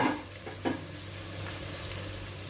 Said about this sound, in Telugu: కూరగాయ ముక్కలు ఒక అర్ధము వేగాయి